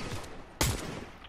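Gunfire in a Fortnite trio match: a single sharp, loud shot bursts out over a background of faint rumbling game noise, with no talk.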